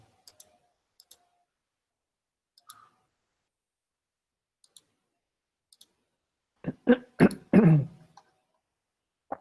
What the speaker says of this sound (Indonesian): Saya tadi makan kacang, makanya agak batuk-batuk.